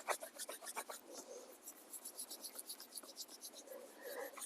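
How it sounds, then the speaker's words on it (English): Cold hands scrubbing briskly together to warm up, a soft dry rasping rub repeated in quick regular strokes, close and quiet with no talk. "I'm just scrubbing my hands because they are freezing."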